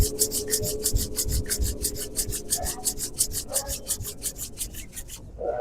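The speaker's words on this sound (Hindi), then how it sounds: "फिर दोनों हाथ को आपस में मिला के रगड़ के आंखों में लगाना है।" Two palms rub briskly together in a rapid, even rhythm of dry swishing strokes, close and clear, with no talking.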